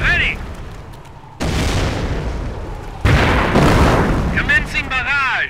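A mortar barrage in the Company of Heroes video game fires and explodes, with heavy booming blasts stepping up in loudness, and whistling incoming rounds near the end.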